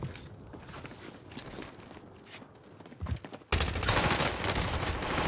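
Bursts of rapid video game gunfire in a tense combat match, with scattered shots at first and then a loud, sustained volley erupting midway and continuing to the end.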